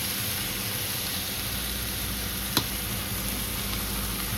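Rice noodles with beef balls stir-frying in a wok over high heat, giving a loud, steady sizzle throughout, with one brief sharp clank partway through.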